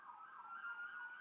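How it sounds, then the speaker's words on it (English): Emergency sirens wail outside a football stadium as a team departs, a rising and falling electronic tone that repeats in a steady cycle, faint and distant. "That's what those sirens are, I think."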